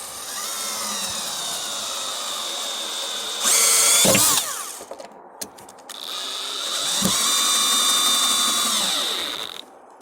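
A power drill runs in two long whirring bursts into a piece of wood mounted on a board, with a short high-pitched surge between them as the screw bites and seats, close and loud with no talk.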